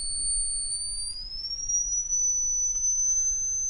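Steady high-pitched whine from a TV flyback transformer core driven as a generator, its pitch gliding downward as the supply voltage is turned down from about 17 volts; a thin, piercing tone heard alone over faint background hiss.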